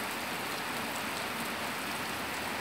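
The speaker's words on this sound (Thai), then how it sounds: "ฝนตกเบิ่ง" Steady rain falls on a Thai village in the morning, a dense, continuous hiss of drops hitting surfaces that stays even and close throughout with no voices.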